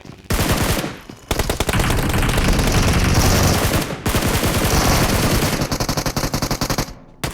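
Scar-L assault rifle fire in PUBG Mobile, loud rapid automatic bursts of shots with short pauses between them, dense and close throughout.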